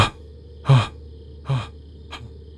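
Harsh, heavy breathing in a hushed horror audio drama: three close, ragged gasping breaths, the last one shorter and softer, against a quiet, faintly humming room.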